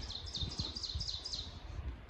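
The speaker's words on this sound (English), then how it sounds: "birds chirping" Repeated high, thin bird chirps in a steady series over a low rumbling background, fairly faint and outdoors.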